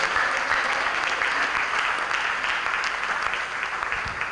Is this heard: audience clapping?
yes